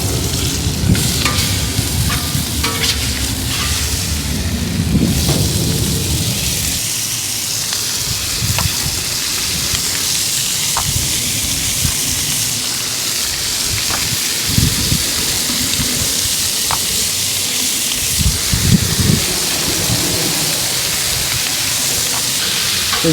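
Sliced steak for a Philly cheesesteak cooked in olive oil and butter on a griddle gives a continuous loud sizzle and frying hiss. A spatula scrapes and clacks now and then while the meat is stirred, with no talking.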